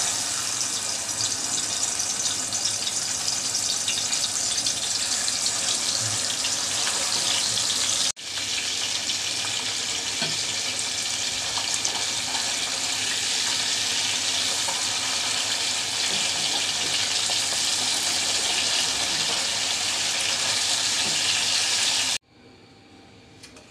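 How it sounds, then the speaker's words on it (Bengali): Pieces of pomfret fish frying two at a time in hot oil, a steady dense sizzle that holds loud and even, dips briefly, then resumes before cutting off near the end. "তেল গরম হয়ে গেছে। এবার আমি দুইটা করে 2 পিস করে ভেজে নিচ্ছি।"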